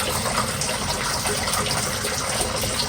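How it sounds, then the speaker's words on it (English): Water draining steadily from the outlet of a yard French drain line, fed by garage downspouts: a continuous, loud rushing gush that holds level throughout with no pauses. "I have not seen this yard French drain line stop since October 1st."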